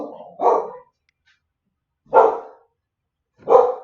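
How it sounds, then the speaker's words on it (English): A dog barks at a mail carrier outside, three loud, separate barks spaced about a second and a half apart with silence between them, close to the microphone. "Dog hears the mailman outside. She's starting to lose her mind."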